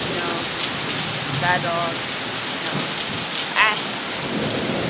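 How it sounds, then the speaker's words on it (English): Heavy rain pours steadily during a severe Florida thunderstorm, with rumbling thunder rolling through a loud, dense downpour close by, and someone briefly speaks over it. "like that's rain"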